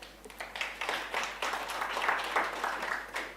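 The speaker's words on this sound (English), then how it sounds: "Give a round of applause." Scattered audience applause at a potato industry address, a thin patter of claps that rises and settles over a few seconds, fairly quiet and heard without talk.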